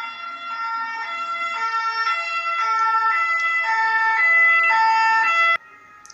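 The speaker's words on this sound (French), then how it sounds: "vous allez entendre les pompiers passer" Fire engine siren passing on a street in France, a loud two-tone wail alternating steadily between pitches, growing slightly louder before cutting off abruptly near the end, with no voices.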